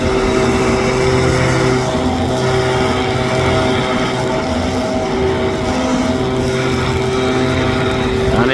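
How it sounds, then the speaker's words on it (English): A big multirotor drone at a police training day spins up and lifts off, its propellers making a loud, steady, close whine with layered tonal hum throughout, no voices over it. "That is a big old drone."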